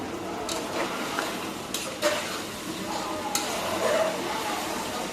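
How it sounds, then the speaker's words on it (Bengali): A spoon scrapes and knocks against a pot while beef with potatoes is stirred and fried for a country-style curry, with light sizzling beneath the close, irregular stirring. "ভালোভাবে নাড়াচাড়া দিয়ে এখন হচ্ছে ভালোভাবে কষাতে হবে মাংসটা"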